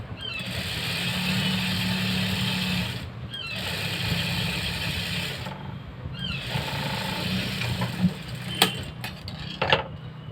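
A sewing machine stitches a simple blouse in a steady mechanical hum, running in three stretches broken by brief stops, with a few sharp clicks toward the end.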